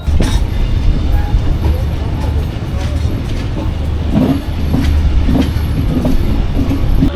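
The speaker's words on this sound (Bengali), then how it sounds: "তো এখান থেকে ট্রেন চলে যাবে" A Bangladeshi passenger train rolls past loudly with a continuous heavy rumble and rhythmic clatter of wheels on the rails.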